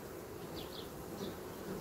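Honeybees buzz steadily from an opened beehive while an artificial swarm is made frame by frame, a continuous low hum with a few brief higher whines of bees flying close past.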